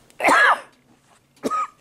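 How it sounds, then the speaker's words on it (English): Two short, close coughs separated by about a second of quiet, the first harsher and longer, the second brief. "Sorry about this coughing."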